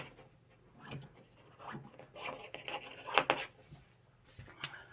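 Organza fabric is trimmed by hand for machine embroidery, with soft, irregular snipping and rustling of the sheer material at close range and quiet pauses between cuts.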